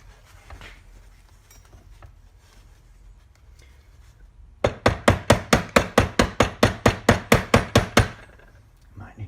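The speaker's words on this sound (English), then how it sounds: "Need to break out a heavier hammer." Rapid hammer taps on a metal part during a 300 Blackout rifle build, about fifteen sharp evenly spaced blows in a steady rhythm, loud and close, following a quieter stretch of faint handling noise.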